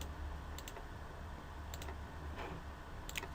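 Quick, light clicks from a computer mouse during CAD modelling work, appearing in brief pairs against a low steady background hum, close and fairly faint.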